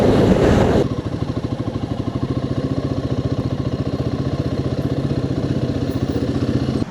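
A motorcycle on a ride toward Dhom Dam near Wai idles or runs steadily after a brief louder burst at the start, its close, even mechanical putter pulsing rapidly and evenly with no talk.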